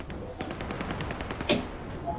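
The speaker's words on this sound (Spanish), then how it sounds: "Sí, los disparos." Gunshots ring out in an FPS video game, a rapid series of sharp shots in quick succession with one louder crack near the middle, set against low background noise.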